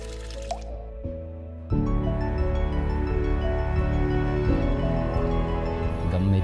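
Water pours steadily from a newly installed tap in Bolinawan, Philippines, with a continuous splashing, dripping flow that grows louder and fuller after a brief quieter start, close to the listener.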